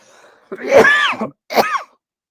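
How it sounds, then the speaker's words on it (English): A man coughs twice, a longer rasping cough followed by a shorter one after a brief gap, loud and close with no other sound around it. "while I'm coughing"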